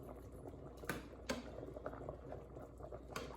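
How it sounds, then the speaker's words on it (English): Jambalaya with pasta and shrimp simmers in a pan, a faint low bubbling with occasional small pops over a quiet background. "Let that simmer. Let it simmer."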